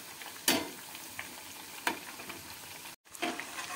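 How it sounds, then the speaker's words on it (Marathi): Wet chickpea vadas frying in oil over a low flame give a steady, close sizzle and crackle with a few louder pops and bubbling spurts, and one brief dropout near the end. "गॅस कमी फ्लेमवरच हे वडे आपल्याला तळून घ्यायचे आहेत।"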